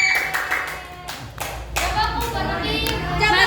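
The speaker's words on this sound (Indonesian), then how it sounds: "Tepuk tangan dong." Children in a classroom at an Islamic boarding school clap their hands in a quick, scattered burst of applause that builds, with young voices chattering over it.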